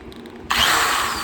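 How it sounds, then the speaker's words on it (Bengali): A power drill bores into a wall to mount a curtain rod, kicking in abruptly after a quiet moment and whining loudly and steadily close by, with no voices over it. "আছে ড্রিল মেশিন এখন"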